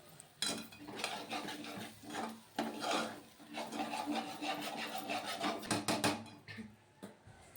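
Masala roasting in oil for a Kolhapuri mutton curry is stirred with a spoon, making continuous close scraping and rubbing strokes against the pan, fairly quiet and without talk.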